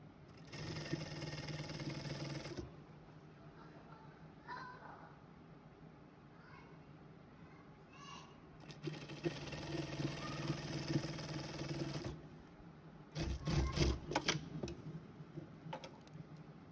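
Sewing machine stitching a long shirt, running in several bursts of fast rhythmic mechanical whirring separated by quieter pauses, with soft handling noises and faint talk in between.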